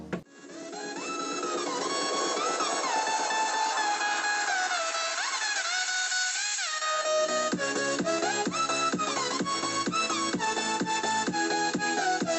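JBL Q7KW Bluetooth speaker playing a test track, a steady bright electronic melody with sustained tones that shift into rapid rhythmic plucked notes, heard alone at moderate volume.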